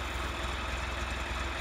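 A tractor fitted with a front end loader idles in a low, even rumble, close and steady with no voices over it.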